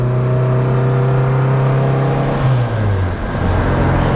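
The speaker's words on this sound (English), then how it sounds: "It has a really nice exhaust note." A 1970s-style MGB sports car's exhaust drones steadily from close by while driving, a smooth engine note holding pitch and then shifting downward near the end.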